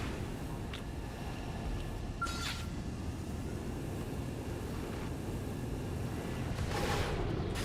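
A mech's Aghasura cannon fires twice in the video game Xenoblade Chronicles X: Definitive Edition. Two short, sharp blasts ring out several seconds apart over a steady wash of battle noise.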